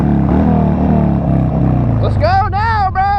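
A Honda 150 motorcycle engine revs loudly and close by, its pitch sliding down over a couple of seconds before a person starts talking over the idling motor.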